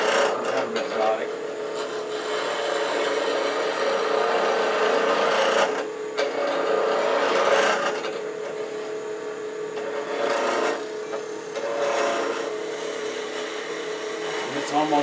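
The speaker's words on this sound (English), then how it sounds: "5/8 inch spindle gouge instead of a roughing gouge, just because it's handy." Wood lathe turning an exotic wood spindle, cut with a 5/8-inch spindle gouge, giving a continuous rough scraping hum that surges and dips as the tool passes, close and loud.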